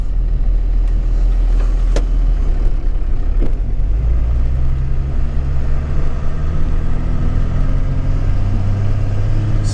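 A Ford Excursion with a Cummins diesel engine plows snow in first gear, its engine giving a loud, constant low rumble throughout with no talk.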